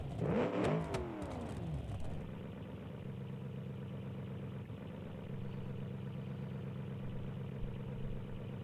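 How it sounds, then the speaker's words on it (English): A crossplane V8 with rear exhausts in a classic 1985-season rally game revs sharply with a rising and falling snarl, then settles into a steady, burbling idle that hums on to the end. "Crossplane V8, of course. Those exhausts there on the rear."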